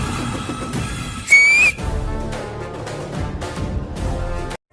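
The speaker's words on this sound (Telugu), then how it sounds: "రెండు చేతుల సౌండ్ కన్నా ఒక చేతి విజిల్ గట్టిగా వినిపిస్తారు" A single loud whistle made with one hand, a short piercing tone rising briefly over a dense, continuous background of crowd or music noise, standing out for about half a second.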